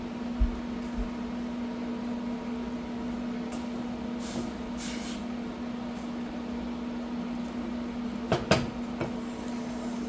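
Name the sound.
microwave oven heating food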